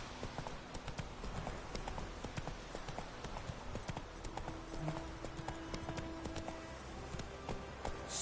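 A horse's hooves clip-clop at a steady walking rhythm on hard ground in The Witcher video game, the repeated hoofbeats sounding close and moderately loud against a quiet ambient background.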